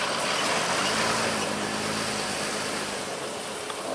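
An ALS bus engine rumbling nearby at night, dense and steady, easing slightly in loudness toward the end as the bus comes to a stop.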